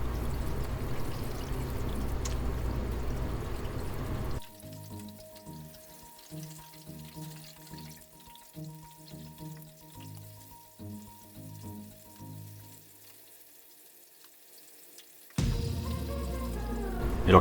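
Battered pork in soaked-starch coating crackles and sizzles loudly in hot oil while deep-frying for Korean tangsuyuk, the dense frying noise breaking off into a quiet stretch before surging back near the end.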